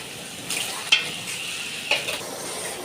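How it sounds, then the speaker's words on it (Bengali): Goat meat sizzles steadily in a hot pan, with two sharp spoon scrapes against the metal as it is stirred and a soft continuous frying hiss between them. "এখন আমি মাংস রান্না করতে যাবো।"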